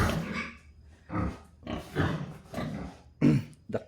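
A large pig at a farm gives a string of loud, close grunts and rough snorts in short bursts, with no speech over them.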